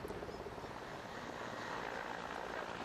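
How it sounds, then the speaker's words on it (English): A helicopter flies over an earthquake-stricken area of Kashmir, heard as a steady, broadband rotor and engine rumble that holds constant throughout, moderately distant, with no talk. "But a helicopter did come and headed for an open field."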